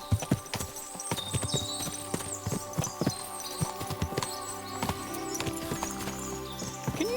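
Several horses trot in Kingdom Come: Deliverance 2, hooves clopping in dense, overlapping rhythms close by, over a low humming backdrop with no talk.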